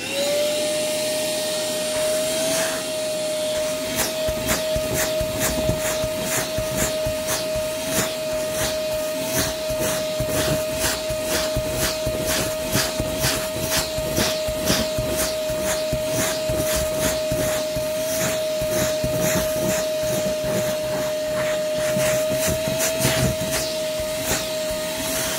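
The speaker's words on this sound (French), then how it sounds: "la solution la plus facile pour le nettoyer, c'est l'aspirateur" A vacuum cleaner runs continuously and loudly close by on a car's roof headliner, a steady whining tone over rough, rhythmic scraping as the nozzle moves across the surface.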